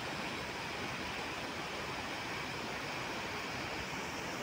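Floodwater from heavy stormy rain in Hong Kong rushes in a loud, continuous roar like a waterfall, broad and unbroken with no gaps or voices.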